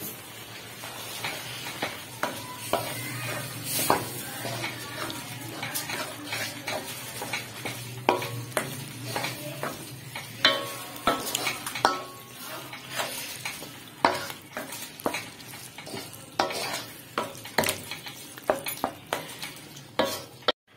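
Carrot halwa being stirred in desi ghee, a spoon scraping and knocking against the pot in irregular strokes over a soft background sizzle, with sharp clinks spread throughout.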